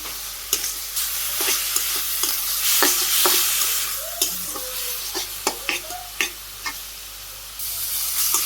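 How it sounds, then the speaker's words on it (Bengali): Leafy greens fry in a pan in a Bangladeshi village kitchen, giving a steady soft sizzle broken by sharp, irregular scrapes and knocks as they are stirred, close and clear, with no talking. "শাকটা একটু নাড়া দিই"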